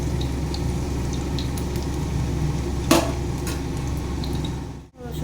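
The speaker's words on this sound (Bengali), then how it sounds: "রসুনটাকে একটু হালকা করে ভেজে নিলাম।" Garlic frying lightly in a pan: a soft, steady crackling sizzle running throughout with a brief clatter near the middle, fairly close and even, no talk.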